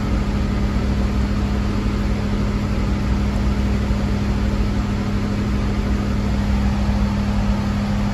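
A 1977 Ford F-250 engine idling steadily close by, a constant low drone with a humming tone that holds even throughout, no revving or talk.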